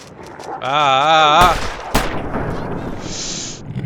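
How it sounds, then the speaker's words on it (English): A sharp rifle shot cracks out in the snowy wilderness game The Long Dark, with a second crack just after. It follows a wavering, howl-like tone and gives way to a wash of noisy ambience. "we're gonna have to try to scare these guys off by shooting one of them"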